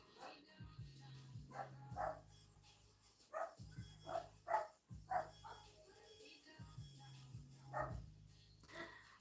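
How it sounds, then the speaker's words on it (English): A pet dog barks in a home, sharp barks in several bursts separated by short pauses, moderately close and fairly faint against a quiet background. "my dog's barking"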